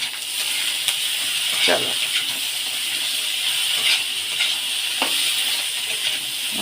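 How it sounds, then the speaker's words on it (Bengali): Diced potatoes and carrots sizzle in a pan with already-fried onion while suji upma is cooked, a soft continuous hiss with occasional stirring clinks and a short spoken word over it. "এবার দিয়ে দেবো আলু আর গাজরটা। আলু আর গাজরটা দিয়ে ভাজা করে নেবো"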